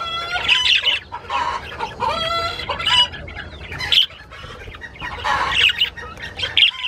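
A blue hen with a yellow face and pale wings clucks and squawks repeatedly among other birds, with bright, busy calls and occasional wing flutters in a lively aviary, no talking.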